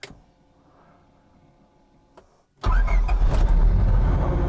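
A classic Mini fitted with a Honda D16 engine cranks and fires up: quiet cabin hum, a click, a brief silence, then the engine catches abruptly into a loud, rough, steady idle roar close to the listener.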